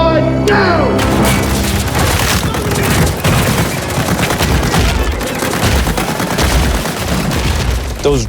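Hundreds of rigged pyrotechnic bullet hits go off in the trees on a film set, a loud, dense fusillade of sharp cracks and booms rattling almost nonstop for several seconds, with a voice briefly heard under the blasts.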